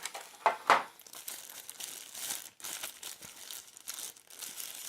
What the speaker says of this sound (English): pop the thermometer out from its plastic tray.